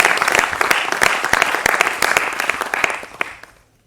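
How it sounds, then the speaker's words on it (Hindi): Loud applause from an audience at a Maha Kumbh gathering, with sharp individual claps standing out over a dense wash, sustained for about three seconds before tapering off into quiet. "जरा जोरदार तालियां हो जाए।"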